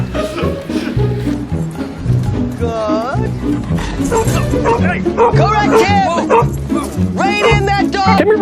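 A dog barks and yips repeatedly, nearby and fairly loud, over busy background noise and talk during a walk at a showroom renovation site.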